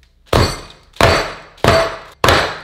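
A skillet is used as a hammer, striking dough sandwiched in parchment paper four times at an even rhythm, each a loud close thud with a short ringing clang.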